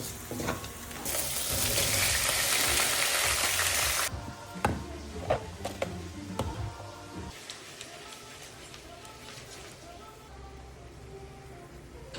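Garlic sizzles and fries in a hot pan, a loud steady hiss for several seconds before cutting off, followed by quieter clatters and scattered kitchen clicks.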